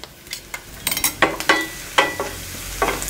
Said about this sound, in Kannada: ಸ್ವಲ್ಪ ಎಣ್ಣೆಲಿ ಫ್ರೈ ಆಗಲಿ ಇದು.